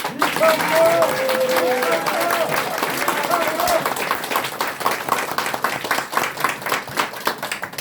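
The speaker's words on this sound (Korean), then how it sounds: "다시 한번 힘찬 응원의 박수 부탁드리겠습니다" An audience applauds at a press conference after a People Power Party candidacy announcement for a National Assembly seat in Hanam. The clapping is loud and crowded, with voices over it at first, then thins into scattered claps.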